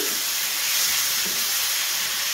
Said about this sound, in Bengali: এবার তেল ছাড়া পর্যন্ত মশলাটা আমি কষাবো